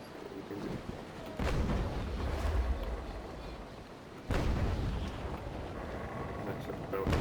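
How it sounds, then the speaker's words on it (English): Two heavy cannon blasts from a sailing warship in the Naval Action video game boom out about three seconds apart, each followed by a long rumbling roar under steady wind-like noise. "That shot bounced right off."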